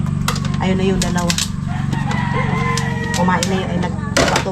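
Chickens cluck and call steadily nearby while being fed, a dense layer of fowl sounds with occasional louder squawks and a low background hum.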